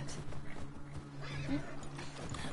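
Horses in The Last of Us Part II give a loud, drawn-out whinny over a steady low drone and soft hoof clops.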